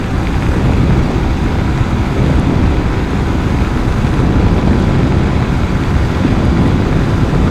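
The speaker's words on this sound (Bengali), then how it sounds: "মানে আমার বাইকে আমি এই প্রথমে আজকে টপ স্পিড তুলবো" A motorbike runs at top speed on the highway from Khulna toward Dhaka. Heavy wind buffeting roars constantly over the engine drone, loud and unbroken, with no voices.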